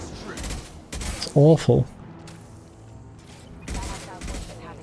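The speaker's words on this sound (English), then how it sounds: "Jacob using a shotgun at this range." Shotgun blasts in Mass Effect 2, a few sharp loud booms among game effects, with someone briefly commenting over the combat.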